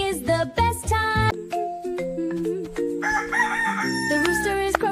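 A rooster crows loudly over a bright, busy backing of children's music, its drawn-out call standing out clearly near the start.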